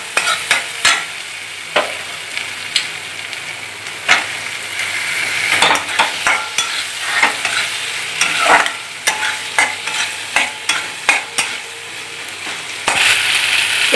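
Spices with chili and cumin powder being sautéed and stirred with tomato in a pan, a loud steady sizzle broken by frequent rhythmic spatula scrapes and clinks against the pan, no voices.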